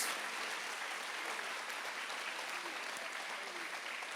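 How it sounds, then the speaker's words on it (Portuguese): Church congregation applauding during a celebration service, a fairly faint, even wash of many hands clapping heard from a distance throughout, with no voices on top. "Pode aplaudir Jesus."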